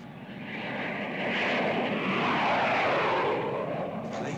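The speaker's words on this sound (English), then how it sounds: "Planes. How low they're flying." Low-flying fixed-wing airplanes pass overhead, their loud, broad engine roar swelling to a peak near the middle and holding steady without any talk.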